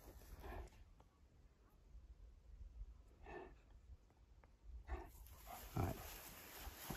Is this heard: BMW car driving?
no